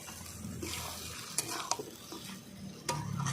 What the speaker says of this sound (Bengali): হালকা জালে দেখো আমি এইভাবে আস্তে আস্তে কষিয়ে নিচ্ছি